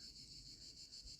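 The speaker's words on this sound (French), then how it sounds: "Et je ne sais pas si c'est le bruit des cigales" Cicadas give a faint, continuous high buzzing drone that pulses slightly, heard alone without any voices over a quiet low background.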